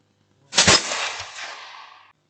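A rifle fires a single loud shot outdoors, followed by a long rolling echo that fades over about a second and a half, with no other sound.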